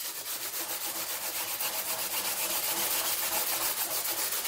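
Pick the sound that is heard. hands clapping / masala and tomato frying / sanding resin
sanding resin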